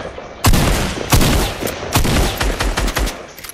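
Gunfire in Fortnite, shooting at barrels in a Tilted Towers prop hunt match: a rapid string of loud, sharp shots, roughly half a dozen bursts close together, heard alone.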